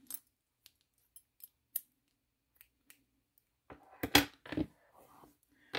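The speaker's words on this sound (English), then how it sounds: "Cut the yarn." Scissors snip through yarn after crocheting an amigurumi, a few sparse light clicks and then a louder close cluster of cutting near the end.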